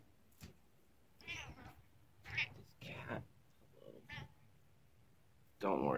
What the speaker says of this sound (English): Don't worry, this is my cat.